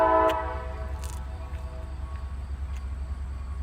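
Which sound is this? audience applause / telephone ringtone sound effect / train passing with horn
train passing with horn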